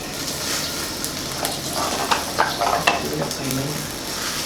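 Vegetables are stirred into a boiling northern Thai chicken curry, kaeng khae with village chicken, giving a steady bubbling hiss with bursts of sloshing and scraping, close, with no clear talking.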